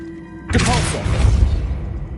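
Depulso force-push spell striking in Hogwarts Legacy, a single loud whooshing impact with a crashing, rumbling burst that trails off over a second or so, no voices.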